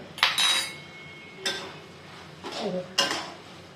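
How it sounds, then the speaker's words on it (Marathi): A spoon clinking against a pan while cardamom powder is added to homemade carrot halwa, heard as a few sharp, close metallic taps and scrapes spaced about a second apart, with no talk. "ते आपण इलायची पावडर टाकतोय"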